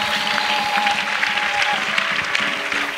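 A church congregation claps for Jesus during an intercession service, dense continuous applause filling the space at steady volume with faint voices mixed in.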